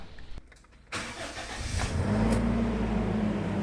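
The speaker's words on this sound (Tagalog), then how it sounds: "Kaya ipa-start ko muna itong makina" Toyota Innova engine cranking and catching after a brief click, then settling into a steady low idle close by.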